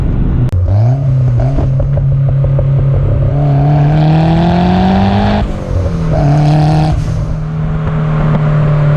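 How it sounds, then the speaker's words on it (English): A Toyota MR2 Turbo engine revs and pulls under load, its droning note climbing then dropping sharply as the turbo dump valve vents, followed by a second surge; loud and close throughout. "Oh, but the dump valve, my gosh, I can't seem to get over this noise, guys."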